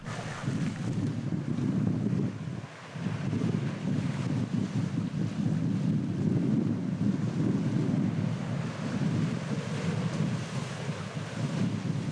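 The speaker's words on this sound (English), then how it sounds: "We stopped several times in places where we could walk to the water to look at the waves." Ocean waves wash along the shore at Acadia National Park in Maine, a continuous rushing surf roar mixed with heavy wind buffeting the microphone, steady throughout.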